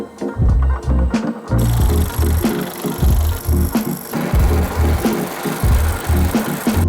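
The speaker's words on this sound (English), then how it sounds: "I think I'm gonna use the power hammer for that." A power hammer pounds sheet metal during shrinking work for a drift car's metal widebody, a loud, fast, rhythmic hammering that stops and starts in bursts with no voices.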